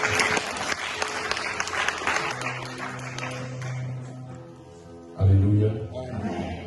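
A church congregation bursts into loud applause during a worship service, a dense wash of clapping that fades as organ or keyboard chords ring out, then a brief loud swell near the end.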